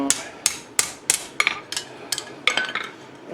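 A hot railroad spike is hammered straight on an anvil, about ten sharp ringing blows in quick, slightly uneven succession, loud and close, with no talking.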